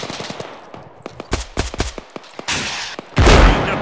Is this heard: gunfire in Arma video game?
yes